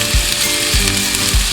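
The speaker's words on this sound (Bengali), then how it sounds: "একটু লবণ দিয়ে বেশ ভালো করে ভাজবো" Banana stem and potato fry with salt in a pan, giving a constant close sizzle with soft rhythmic low thumps as the pieces are stirred about three times.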